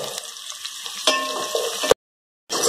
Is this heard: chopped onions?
yes